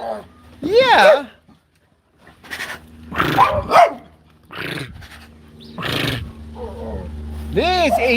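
Dogs barking and growling in rough, separate bursts with pauses between, close and loud, mixed with snarling howls and a voice calling out.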